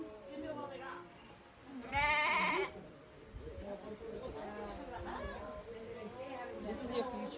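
A sheep bleats loudly once at a rainy outdoor market, a wavering nasal cry standing out over background chatter and bustle, with people talking nearby.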